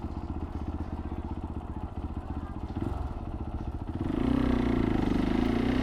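A motorbike engine thrums steadily at close range while riding, growing louder and rougher near the end as it accelerates.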